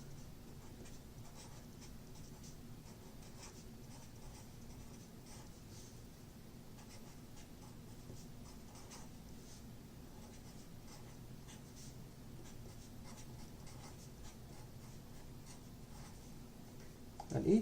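Someone writes out equations by hand, a faint, continuous scratching of strokes across a writing surface, steady and close, with no talking.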